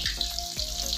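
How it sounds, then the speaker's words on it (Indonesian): Tofu sizzling as it fries in hot oil in a village kitchen, a steady close crackling hiss running without pause. "Nah terus digoreng ya tahunya gimana"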